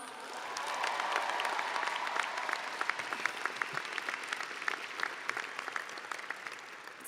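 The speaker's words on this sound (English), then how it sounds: "Graduates, Simon says give yourselves a round of applause." Graduates at a Berkeley College commencement applaud in a large hall, with a steady, moderately distant wash of clapping that thins into scattered individual claps toward the end.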